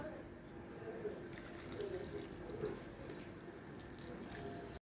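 Faint trickle and splash of water being poured over Indian basmati rice to soak for biryani, quiet and steady with a slightly louder stretch in the middle.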